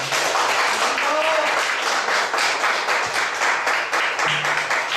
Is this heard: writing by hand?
no